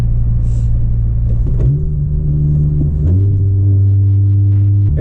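A 10th gen Honda Civic Si with a loud turbo and exhaust setup drones from inside the cabin, its low engine rumble stepping up through the gears as it pulls.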